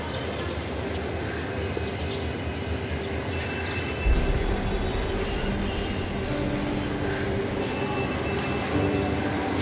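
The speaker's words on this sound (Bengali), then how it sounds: "চট্টগ্রাম রেলওয়ে স্টেশন, এটা হচ্ছে আপনার ওয়েটিং জোন" A train at Chittagong railway station, near New Market, rumbles steadily through a busy platform, with a dense wash of engine and carriage noise and a brief heavier surge partway through.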